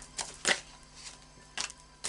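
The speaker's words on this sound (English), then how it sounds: "we'll just do a final shuffle of the Moonology cards" A Moonology oracle card deck is shuffled by hand, giving a few quiet, soft riffling snaps and flicks separated by near silence.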